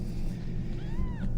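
A small kitten gives a single rising-and-falling meow near the end, close by over a steady low background rumble.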